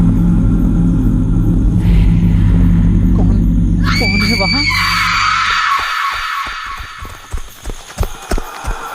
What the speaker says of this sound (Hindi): उसकी चीख की आवाज?